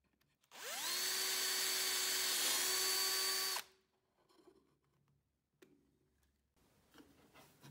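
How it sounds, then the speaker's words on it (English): A power drill bores mounting holes into a box for a homemade lab overhead stirrer, one steady whine lasting about three seconds with a rising pitch at the start, then quiet handling clicks and faint bumps. "Now two more mounting holes could be drilled into the box."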